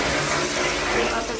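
Washroom water tap switched on in a restaurant restroom, a steady loud hiss of running water close by, continuous and even throughout.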